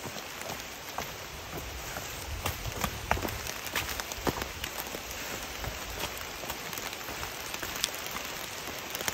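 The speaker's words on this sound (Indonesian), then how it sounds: "udah turun lagi hujannya gede" Heavy rain pours steadily on a mountain trail at Gunung Salak in the wet season, a dense, continuous hiss of drops hitting the ground and foliage close by, with no voices.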